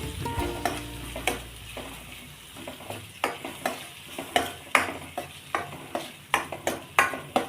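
Kasuri methi and turmeric frying in a pan, stirred with a utensil that scrapes in regular strokes roughly every half second over a low, steady sizzle.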